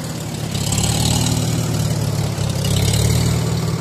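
Close, loud engine idling with a steady low throb and a slight swell partway through, no voices.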